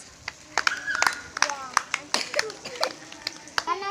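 Children clapping for prize winners, scattered sharp individual claps in uneven bursts rather than steady applause, with children's voices and talk mixed in close by.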